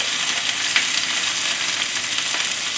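Chopped vegetables hiss and crackle in hot vegetable cooking oil as they go into the pan for a brown rice and vegetable curry, a steady, dense, close sizzle with no voices over it.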